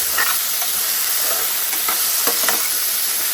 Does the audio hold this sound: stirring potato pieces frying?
yes